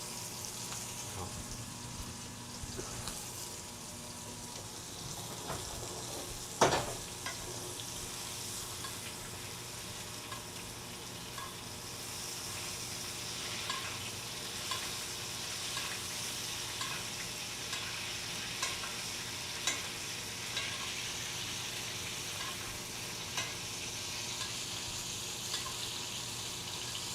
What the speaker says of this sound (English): And we just keep basting and basting, but always got to remember to turn the temperature down a little, otherwise the butter just burns